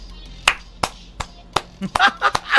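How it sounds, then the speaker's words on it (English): Hand clapping from a Street Fighter 6 match, several sharp separate claps at an uneven pace, fairly close, with a brief burst of other clatter near the end. "whenever he starts clapping"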